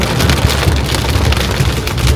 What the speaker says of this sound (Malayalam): അപ്പോൾ മഴയുടെ ഗതി മാറിക്കൊണ്ടിരിക്കുകയാണ്